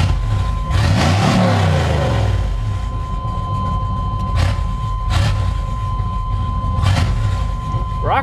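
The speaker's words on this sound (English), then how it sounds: "so go ahead and rev it up a little." A 1994 Chevrolet Suburban demolition derby truck engine revs close by, rising in loud bursts over a steady rough idle.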